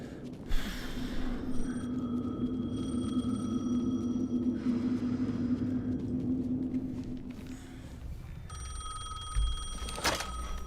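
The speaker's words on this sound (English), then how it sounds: "Answer. Phone again." A telephone rings inside the video game Alan Wake II, a steady electronic tone held for several seconds over a low rumbling ambience, then breaking off before a brief second ring near the end.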